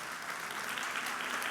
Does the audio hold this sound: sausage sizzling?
no